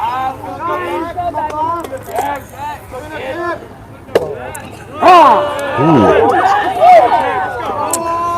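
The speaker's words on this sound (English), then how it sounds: "As you can hear the reaction from the crowd, probably. They weren't too keen on that call." Spectators at a high school baseball game between Chambers Academy and Bessemer murmur, then swell into loud overlapping shouts and jeers after an umpire's call, with close commentary voices talking over the crowd.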